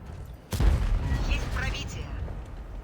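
The K-2 tank's main gun fires once in World of Tanks Blitz, a sharp loud boom that then rolls into a long rumbling decay, with someone talking over it.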